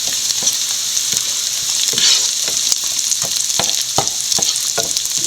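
Curry leaves sizzle in a frying pan with small onions and green chillies while a spoon scrapes and stirs in a steady series of sharp taps over continuous close frying hiss, with no talking.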